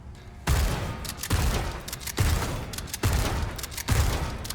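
Rapid gunfire in the Resident Evil 4 remake: five loud, evenly spaced bursts roughly a second apart, each a sharp blast with a short rumbling tail, alone with no talk.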